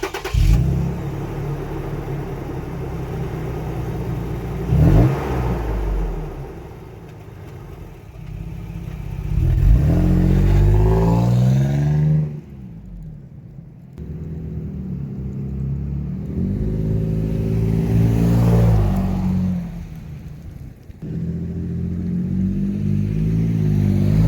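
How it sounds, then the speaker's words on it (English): A Toyota Tacoma 4.0L with a custom 3-inch exhaust revs in several rising and falling pulls, then accelerates past at about 25 mph, a deep loud engine note swelling and fading without talk. "I'm going to get in, rev it up, and then I'm going to drive by at about 25 miles an hour under acceleration"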